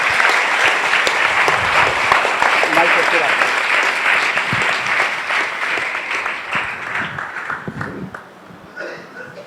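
A church congregation applauds to welcome a servant of God to the pulpit, steady dense clapping that holds for most of the stretch, then thins and fades toward the end with faint voices underneath.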